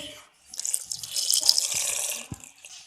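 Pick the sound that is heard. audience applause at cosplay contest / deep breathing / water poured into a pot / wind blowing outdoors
water poured into a pot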